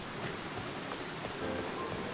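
Steady rain falling in Final Fantasy XIV: A Realm Reborn, a continuous even patter of drops on surfaces with no voices, holding at a constant moderate level throughout.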